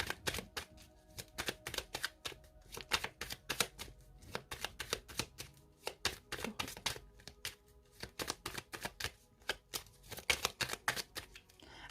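Tarot cards are shuffled and cut by hand in a long run of quick, crisp riffling bursts and slaps, close and fairly quiet, with no talking.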